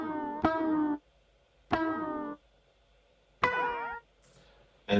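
High-pitched MIDI synth tones with pitch bends, played dry without an amp: three short bursts of bright harmonic notes with sweeping pitch, each under a second long with gaps of silence between, then a brief fourth blip at the end.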